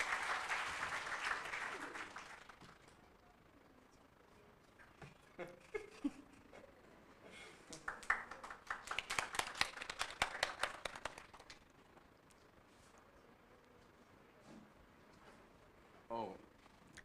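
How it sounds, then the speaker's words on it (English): An audience at a panel discussion claps in scattered bursts, a loud round at the start and a sparser, thinner round later, separated by quieter stretches with brief speech. "Clap louder, please."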